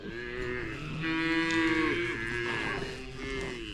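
Weaned calves moo in long, loud, sustained calls that swell and fade continuously, with no talking.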